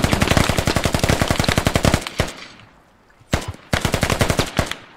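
Rapid automatic gunfire in the tactical shooter game Squad, a loud, steady burst of evenly spaced shots, a pause with a few isolated rounds, then another sustained burst.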